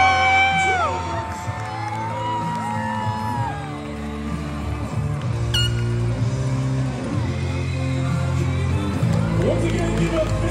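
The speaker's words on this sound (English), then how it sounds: "give a big round of applause from all of our athletes" A crowd of athletes at a grand champion award ceremony cheers, whoops and yells in a loud, continuous wash of voices, with some shouting layered over the din.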